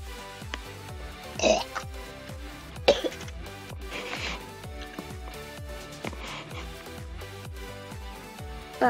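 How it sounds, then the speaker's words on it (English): Several coughs and throat-clearing noises after accidentally drinking tea, close and fairly quiet, over a rhythmic music background with a gulp-like sound among them. "That's the sound of me accidentally drinking off tea."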